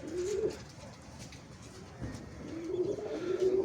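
Pigeons cooing in a loft with males and a female among the flock, soft low burbling coos repeating near the start and again toward the end, close by with no talk.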